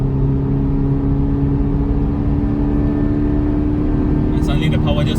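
Toyota 86 engine holding around 4,000 RPM from inside the car, a steady loud drone with a low hum. A person talks over it near the end.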